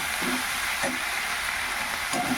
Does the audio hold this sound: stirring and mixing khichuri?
yes